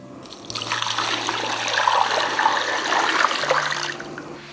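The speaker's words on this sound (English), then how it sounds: "you just wanna put enough water in here that it covers the tops of your bones" Water splashes and trickles steadily into a pot of beef bones for broth, a continuous moderate pour that swells and then tapers off.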